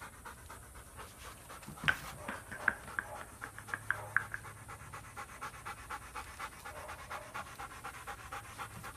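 A dog panting rapidly and steadily after a gymnastics training session, close by, with a few sharp whines or squeaks breaking through the rhythmic breathing.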